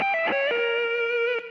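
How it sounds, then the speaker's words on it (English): A final arpeggio shape on a distorted electric guitar, a few quick picked notes that land on one sustained tone, close and loud with effects, no talking. "The last arpeggio shape before I play the harmonic minor sequence is this"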